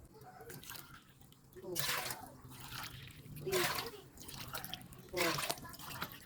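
Water is poured by the cup into a pot for gelatin, six separate faint splashing pours in a quiet kitchen, each a short burst of trickling liquid with pauses between.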